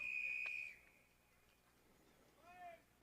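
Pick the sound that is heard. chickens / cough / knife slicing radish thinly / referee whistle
referee whistle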